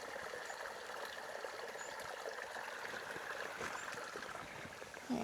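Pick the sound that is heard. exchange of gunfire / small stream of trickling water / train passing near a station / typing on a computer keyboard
small stream of trickling water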